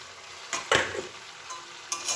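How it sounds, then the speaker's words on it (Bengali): Chicken coated in onion, garlic and ginger paste with turmeric and chili powder frying in a pan, a few sharp scraping stirs and soft sizzling bursts, close and brief. "আগে একটু ভাজা করে নিই চিকেনটা।"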